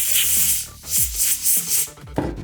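An aerosol can sprayed through a straw into the analog stick of a PS5 controller to fix stick drift: several short, close hissing bursts in quick succession, with faint handling rubs and clicks between them.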